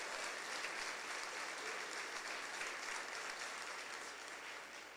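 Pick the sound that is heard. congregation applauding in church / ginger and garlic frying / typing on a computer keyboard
congregation applauding in church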